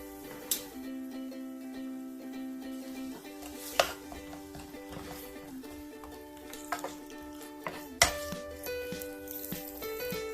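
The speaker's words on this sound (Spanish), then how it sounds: "Vamos a agregar nuestro aceite de oliva a nuestro sartén. Ahora vamos a agregar nuestra cebolla." Chopped onion sautéing in olive oil in a frying pan, a steady soft sizzle with occasional stirring clinks, alongside faint tonal background sounds.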